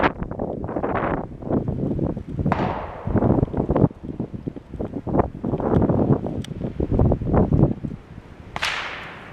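Gusty wind buffets the microphone outdoors at a shooting range, loud rough bursts and rushing swells coming and going irregularly throughout, with no talking.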